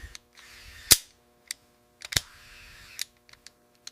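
A Luger P08 pistol's toggle action being cycled by hand, giving sharp metallic snaps and clacks with a lighter click or two between them, close and crisp against near silence.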